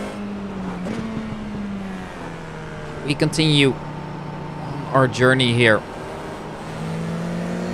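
FIA F4 race car in the iRacing sim, engine droning steadily with pitch shifts as revs change, heard beneath commentary.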